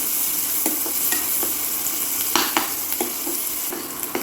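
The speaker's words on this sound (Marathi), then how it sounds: "कांदा थोडासा शिजवून घ्यायचा आहे आपल्याला" Onion sautéing in oil over a medium flame gives a loud, close sizzle, with a spoon scraping and tapping the pan at irregular moments.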